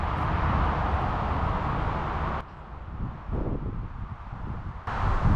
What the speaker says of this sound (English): And it's an extremely windy day.